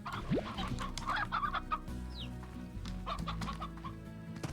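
Chickens and a rooster in the video game Slime Rancher cluck and squawk in a quiet, busy farmyard chorus, with short bursts overlapping the whole time.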